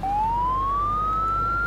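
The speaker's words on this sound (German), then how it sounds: "Ja, Sirene noch besonders." Police siren from a modded police car in Farming Simulator 19, a single steady rising wail sounding loud and close for under two seconds over a constant low rumble.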